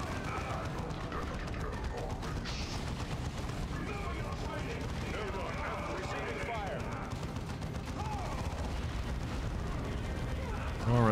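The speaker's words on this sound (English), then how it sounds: "Now you're under enemy fire." Battle din from the Dawn of War 2: Chaos Rising strategy game, with continuous gunfire, explosions and artillery rumbling throughout, mixed under game voices and music.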